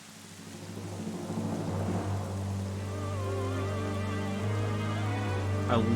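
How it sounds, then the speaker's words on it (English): Rain falls steadily in Zelda: Twilight Princess HD, a dense hiss that builds over the first seconds, with low rumbling underneath and game music playing throughout. "It's even raining there."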